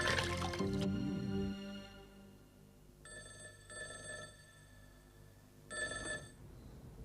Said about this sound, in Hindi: इस दफा फोन को भी अभी बजना था।